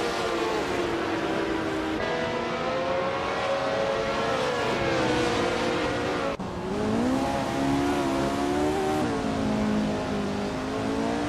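Brabham B24 racing car in a racing video game, its engine whining steadily and shifting pitch through gear changes and acceleration, loud and sustained with no talk.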